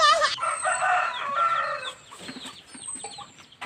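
A rooster crows once from close by, a loud, drawn-out call that trails off into softer clucking and faint background noise.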